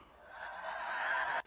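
A dry female breath sample, a single soft exhale rising gradually and ending abruptly with a small click, faint and close, with nothing else heard.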